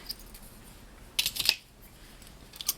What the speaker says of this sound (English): Slip stitch, cut the yarn.